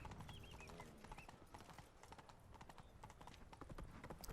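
Roach the horse trots along in The Witcher 3: Blood and Wine, hooves clip-clopping in a quick steady rhythm, with a brief whinny and faint game ambience and music beneath.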